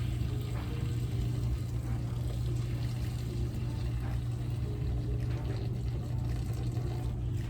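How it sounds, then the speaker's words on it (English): Water poured from a pot of boiled sweet potatoes into a colander, a steady continuous splashing pour lasting several seconds over a low background hum, with no talking. "I'm going to drain the water off first because I don't want to break them. So I'm just going to pour the water off first."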